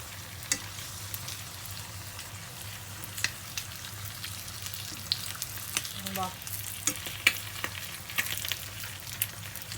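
Oil heating in a pan ahead of frying quail egg wontons, a steady low sizzle and hiss running throughout with scattered small pops and crackles, moderately close and with no talking.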